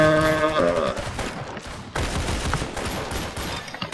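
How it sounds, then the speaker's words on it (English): An automatic gun firing in the Roblox game Arsenal, rapid repeated shots in close, loud bursts that follow a short tonal sound at the start. "So I think this is a gun that you can hold down to shoot."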